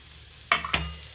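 Raw mango chutney mixture stirred in a pan with turmeric, two quick scraping strokes of a spoon over a faint sizzle after a quiet start, close by.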